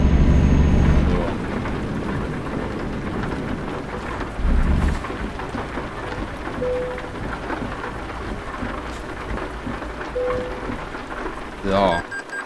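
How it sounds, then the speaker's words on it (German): Steady rain and rumbling thunder in the trucking game Euro Truck Simulator 2, a continuous downpour with heavy low thunder rolls at the start and again midway, plus a few faint interface tones. "Gucken, ob es jetzt nicht mehr regnet. Natürlich regnet es noch."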